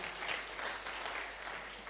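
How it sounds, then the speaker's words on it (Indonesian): Applause from a church congregation during a Sunday service at GBI Altar Filadelfia in Jakarta, a steady, dense clapping that fills the whole two seconds with no pause. "Beri tepuk tangan yang meriah."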